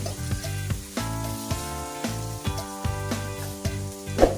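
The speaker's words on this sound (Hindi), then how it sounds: "अब हम इसमें ऐड कर देंगे बारीक चॉप किया हुआ 2 मीडियम साइज के प्याज।" Finely chopped onions, two medium ones, sizzle loudly in a hot pan while cooking for an okra (bhindi) dish, with repeated rhythmic scraping and stirring strokes over the continuous frying hiss.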